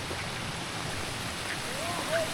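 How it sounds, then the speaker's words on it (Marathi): A small waterfall stream on a trek near the Yana caves in Gokarna flows with a steady, soft rushing hiss, fairly faint and continuous, with a brief high bird-like call near the end. "आणि पाण्याचा आवाज बघा काय येतोय मस्त एकदम झरासाठी."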